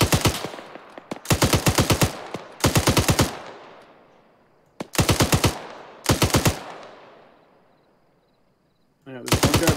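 Automatic gunfire from a military firefight in the video game Arma 3 comes in five short, loud bursts with echoing tails and pauses between them, then a sixth burst starts at the end.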